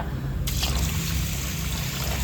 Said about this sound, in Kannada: ಇವಾಗ ನೀರು ಹಾಕ್ಕೊಂಡು ಒಂದು 6 ಅವರ್ ನೆನೆಸಿಡೋಣ